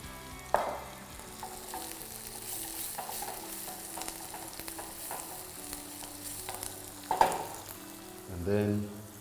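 Garlic and celery sizzling and frying in a soup pot, a steady crackle with a few sharp clanks and stirring scrapes, the loudest stirring coming near the end.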